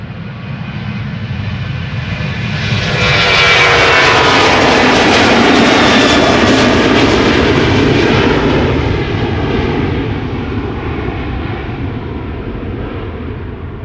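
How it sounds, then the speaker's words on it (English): A Ryanair Boeing 737-800 jet bound for Dublin roars past, its engine noise swelling quickly, peaking loud with a rising whine, then slowly fading as it moves away, with no talking. "Ryanair up next, going to Dublin, flight 421, 737-800."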